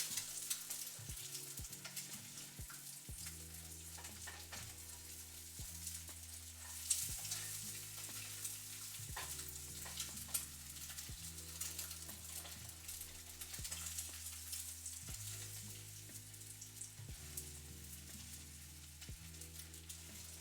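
Eggs with broken yolks sizzle steadily in a frying pan as they are stirred around for a breakfast sandwich, with a constant close crackle and soft low tones beneath.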